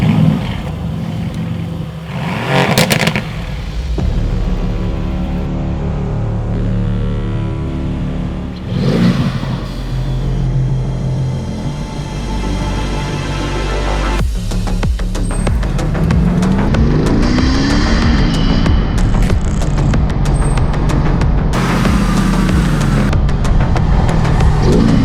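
A 2018 Mercedes-AMG GT S engine fires up and revs hard, the loud, throaty bursts rising and falling over several seconds, then settling into a steady, rumbling idle and further throttle blips.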